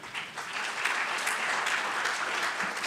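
An audience at a youth event in Ghana breaks into applause for the President of Ghana, a continuous crowd of clapping hands with a few sharper claps standing out, steady throughout and not covered by speech.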